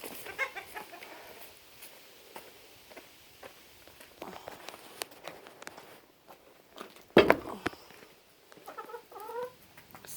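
Leghorn chickens clucking and squawking at feeding time among ducks and other birds, scattered calls near and far with a sharp loud burst midway and quick clucks near the end.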